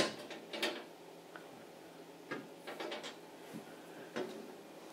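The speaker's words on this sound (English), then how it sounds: "to open this panel, it does take the standard Silent Knight key" Silent Knight SKE-450 voice evacuation fire panel door being unlocked with a key and swung open, a series of soft metallic clicks and clunks spread across a few seconds in a quiet room.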